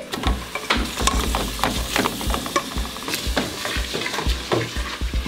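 Onions, spices and meat sizzle loudly in olive oil in a pan for harira soup while a utensil stirs and scrapes through them in uneven strokes.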